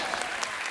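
Dense applause from a studio audience on a Hindi comedy talk show, a steady wash of clapping heard on its own at moderate loudness.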